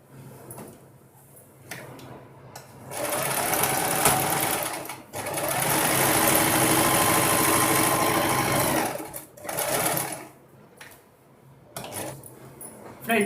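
Close and steady, a sewing machine stitches fabric for a free-size maxi dress in two long runs, with quieter handling sounds and short pauses around them.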